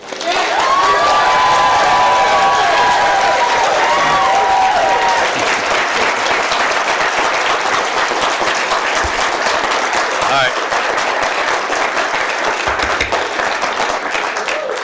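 Sustained, loud audience clapping fills a county board of supervisors meeting, a dense, steady roar of many hands with a few high whistles or shouts early on, lasting the full stretch.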